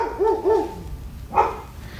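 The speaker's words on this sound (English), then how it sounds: "them dogs sounds like they're outside." Dogs bark outdoors, two quick yapping barks followed by a single louder bark after a short gap, heard clearly at moderate distance with no talking over them.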